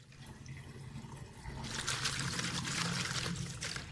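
Water poured over fresh mint leaves to wash them, a steady splashing trickle that swells louder midway and keeps running, close by with no talk.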